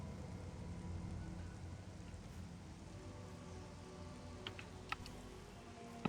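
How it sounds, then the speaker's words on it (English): Rain pours steadily in the Metroid Prime Remake, a soft, even wash of falling drops with a few faint clicks and taps near the end. "you can actually see the rain bouncing off of the gun"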